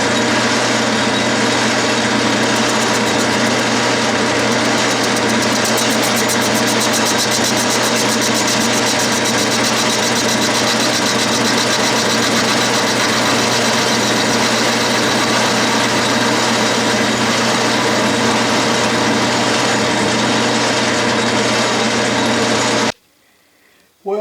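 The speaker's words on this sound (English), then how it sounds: "what I need to do here is to face the cylinder just enough to clean it up" Steady, loud machine drone of a lathe facing the cylinder of a Stuart Progress model steam engine, continuous and unchanging for over twenty seconds before it cuts off abruptly at the end.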